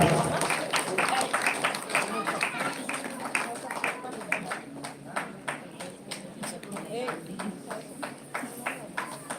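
A gathering claps in farewell, a steady run of evenly spaced, moderately loud claps that settles into a rhythmic beat, with a voice talking over it.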